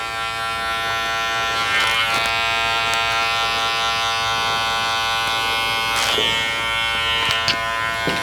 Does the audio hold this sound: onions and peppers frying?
no